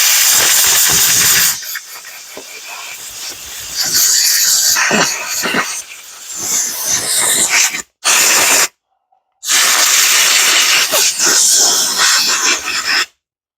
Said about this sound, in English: The air compressor noise wasn't too bad.